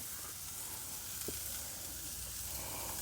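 Pineapple-marinated meat frying in a pan, a steady, soft sizzle with a faint crackle partway through and no voices.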